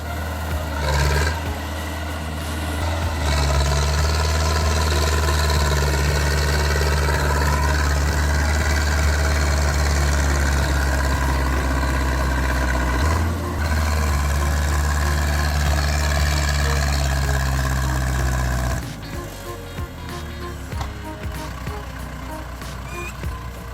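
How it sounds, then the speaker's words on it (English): Heavy Zader 7245 tractor engine straining while stuck in mud on a steep hill, a loud continuous low roar that holds for most of the clip, dips briefly, then drops to a lower idle near the end. "The engine roars again as it swings left, then right, trying again and again to build momentum."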